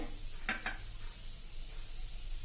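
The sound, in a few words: urad dal frying and sizzling in a pan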